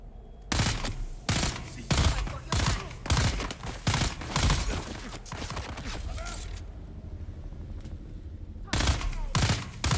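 Rifle gunfire from the video game Dune: Awakening: rapid bursts of loud shots repeating in a steady rhythm, then a pause, then another burst at the end.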